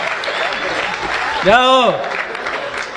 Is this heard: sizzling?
no